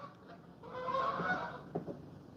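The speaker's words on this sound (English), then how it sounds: "Did you hear the birds? The geese are coming." A flock of geese honking, a loose chorus of calls rising and falling at a moderate distance.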